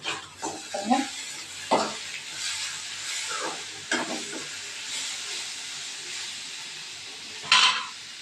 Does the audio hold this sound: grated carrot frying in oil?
yes